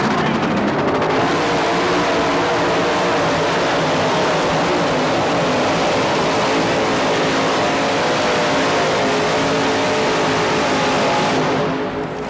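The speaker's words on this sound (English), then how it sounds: "the tractor always has been a real good tractor out of the hole" A tractor-pulling machine roars steadily down the track in a 1987 pull, a loud, continuous, dense engine drone that fills the whole stretch and eases off slightly at the end, with no talking.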